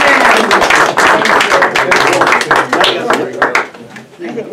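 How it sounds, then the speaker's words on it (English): A small neighborhood audience claps at a Forest Lawn presentation, bursts of hand claps mixed with cheerful voices, fairly close and lively, thinning out toward the end. "Can we have a little round of applause?"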